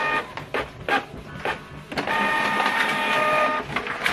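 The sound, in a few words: printer printing out a letter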